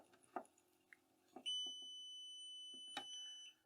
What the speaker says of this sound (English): So that was the alarm, and the pump turned itself off.